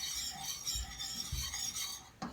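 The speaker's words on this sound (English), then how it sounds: "whisk in this egg" Egg being whisked into a keto Nanaimo bar mixture in a pan, a soft continuous scraping and stirring with light metallic clinks of the whisk against the pot, close and steady, with a sharper knock near the end.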